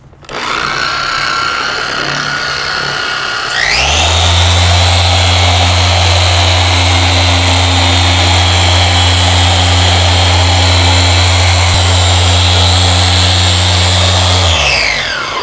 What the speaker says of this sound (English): Always let that pad stop before you lift that polisher off.